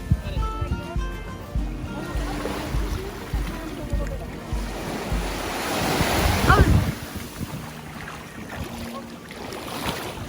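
Caribbean ocean surf washes onto a Grenada beach in a steady rushing wash, with wind buffeting the microphone and a louder wave surging through the middle, while people talk faintly in the background.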